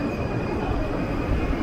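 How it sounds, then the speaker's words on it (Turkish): A train rumbles into a station in Cologne, Germany, with steady low noise and a thin high wheel squeal running through it. "Tren geldi. Şimdi trene bineceğim."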